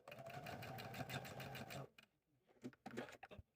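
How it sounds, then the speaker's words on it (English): A sewing machine stitches small fabric squares into a strip for a squirrel accessory, a close rhythmic rattling run of under two seconds that stops, followed by a few soft handling knocks. "I'm going to take these little squares and stitch them together and go ahead and sew that entire strip."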